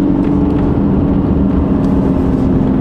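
A Mercedes C-Class 220d diesel is driven and pushed a little on small country roads, with a steady, fairly loud low engine and road hum throughout.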